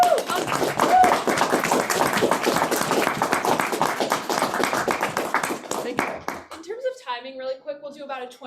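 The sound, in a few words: applause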